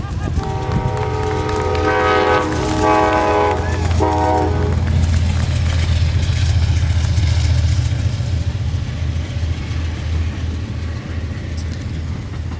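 A train rumbles past steadily, its horn blaring in a loud sustained blast early on, followed by continuous rolling wheel noise.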